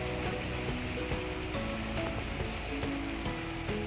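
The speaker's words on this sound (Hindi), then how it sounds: "बहुत ही खूबसूरत बारिश हो रही है" Steady rain pours down over Lahore, a dense continuous hiss with faint scattered tones and background activity mixed in, no talking.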